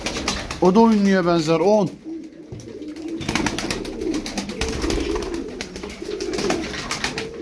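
Tumbler pigeons, game birds, give a brief cooing call close by, followed by wing flutters and background bustle as someone talks over them.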